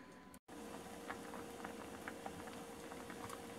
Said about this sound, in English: So they've been boiling for about, I would say, 50 minutes